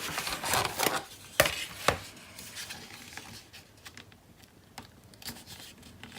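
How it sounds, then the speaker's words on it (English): A utility cutter scores and trims a corner of craft board, giving several sharp scraping cuts and rasping strokes close by, with brief dry scratches spaced through the quieter later part. "I just scored it again, and I'm trimming out this corner again."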